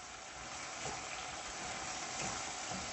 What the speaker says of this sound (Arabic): نحط معلقتين الصلصه الكبار ونقلبهم